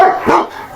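A dog barks outside a house at night, one short, fairly loud bark rising out of a low background with no other sound.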